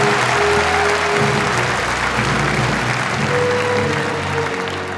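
A large crowd applauds the stallion Marcus 491 at a studbook stallion championship show, loud sustained clapping that fills the arena, with organ-like music tones playing underneath.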